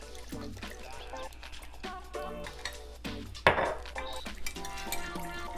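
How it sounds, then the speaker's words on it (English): A whisk clinks and scrapes against a bowl while a soy sauce mixture is stirred in a home kitchen, a series of close metallic taps and swishes with one louder clatter midway. "we're gonna whisk all this together and see."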